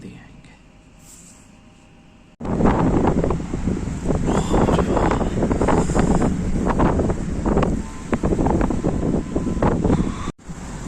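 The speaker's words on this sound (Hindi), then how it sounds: "मगर हवा बहुत तेज़ चल रही है" Strong wind roars outdoors at night, buffeting the microphone loudly and steadily after a quiet opening and cutting out briefly near the end, with someone speaking beneath the gusts.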